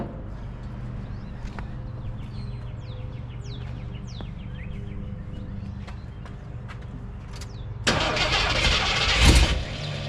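A Jeep J10 pickup engine cranks and catches after its carburetor was reinstalled, a loud broadband burst near the end following a stretch of quiet idle-like rumble with birds chirping outdoors.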